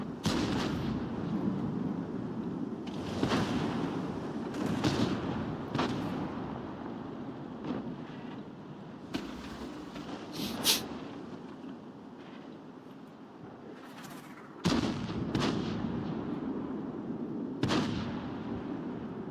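Tank cannon shots in World of Tanks ring out as sharp, booming reports spaced a few seconds apart over a constant rumbling engine and battle ambience, some close and loud, others more distant.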